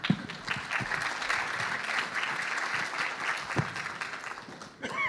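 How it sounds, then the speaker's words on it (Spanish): Sustained applause from a seated audience at a science-communication panel in Colombia, a dense patter of clapping held steady for several seconds at moderate distance, with faint voices mixed in. "Les ruego un aplauso, por favor."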